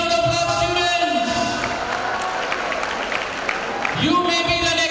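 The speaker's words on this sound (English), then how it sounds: "Big round of applause, students." A hall full of college students at a freshers' day celebration applauds and cheers in a dense, steady wash of sound, with music and a voice on a loudspeaker running underneath.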